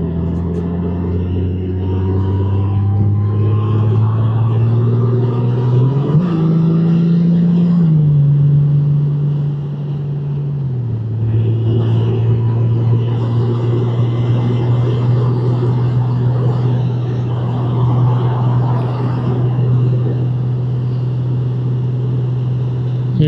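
A 2024 Honda Goldwing DCT motorcycle cruising at 75 mph in seventh gear around 2,500 RPM on a highway, its steady engine drone and wind rumble loud and continuous with a brief pitch rise midway.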